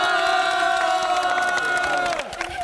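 A crowd at a live TV broadcast with a middle-school handball team loudly cheers and shouts in sustained, high-pitched voices, fading somewhat toward the end.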